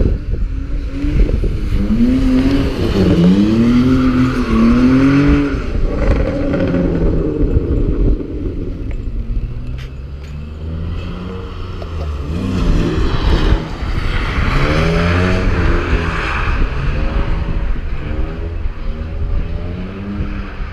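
Cars drifting at a drift day event in Midland, with engines revving and rising in pitch again and again, a continuous loud roar with sweeping tones and some rumble, heard up close throughout.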